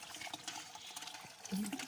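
Water drains and splashes from freshly washed buckwheat, a soft, uneven trickle and slosh close by with a brief louder pour near the end.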